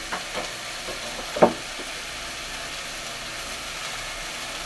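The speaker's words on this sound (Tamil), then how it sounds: "நாலு தக்காளி அதை பூரா நம்ம கொட்டிக்குவோம் கொட்டிட்டு இந்த தயத்தில் வந்து நம்ம கொஞ்சம் உப்பு போட்டு வதக்கணும்ப்பா" Four tomatoes sauté with rock salt in a pan while making urad dal chutney, giving a faint, steady sizzle with one brief utensil clink near the start.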